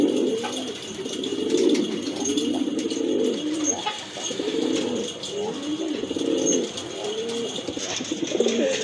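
A male pigeon coos close by in repeated rolling, throaty phrases, with a quieter background hum and a few faint chirps.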